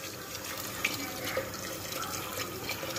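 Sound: water poured into a cooking pot over squash and onions

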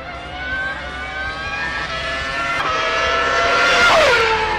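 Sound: West McLaren Formula 1 race car driving

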